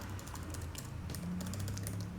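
Computer keyboard typing, a quick run of light clicking keystrokes close by over a soft background hum.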